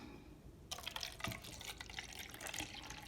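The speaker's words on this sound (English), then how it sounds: "I'm going to pour in 1/3 into my cup" Liquid is poured into a measuring cup while making DIY hand sanitizer, a short, close splashing and trickling burst that starts abruptly after a quiet moment and runs to the end.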